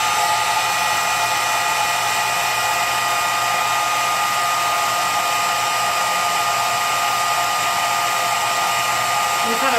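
A heat gun blows hot air steadily and loudly for the whole stretch, a constant broadband whoosh with a high whine, used to heat and press material by hand.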